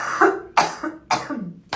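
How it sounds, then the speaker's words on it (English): A run of dry coughs in close succession, loud and near, with short pauses between the bursts. "it's giving me a tickly cough"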